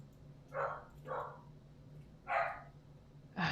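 A dog barks four times in separated single woofs, moderately close, with quiet room hum between barks and no talking.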